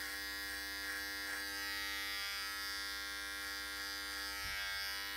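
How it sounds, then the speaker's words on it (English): An adjustable hair clipper, opened all the way with wide teeth, cutting hair over a comb gives a continuous close electric buzz with a steady mains-like hum and small shifts as it moves through hair. "I'm gonna use my adjustable clipper"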